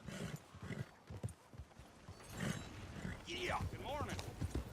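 Horse hooves clip-clop in Red Dead Redemption 2 as a rider moves along at a walk, a rhythmic thud of steps under quiet voices, with a whinny-like call near the end.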